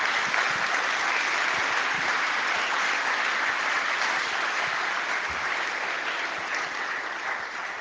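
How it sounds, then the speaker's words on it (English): Steady applause from a lecture audience welcoming a talk about winning the war on error, a dense wash of clapping holding at an even level for about eight seconds, easing slightly toward the end. "let's give Matt a big round of applause"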